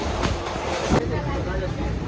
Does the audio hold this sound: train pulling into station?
yes